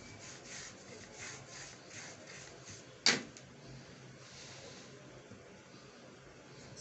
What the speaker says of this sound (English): you can put your cake on the turntable and start smoothing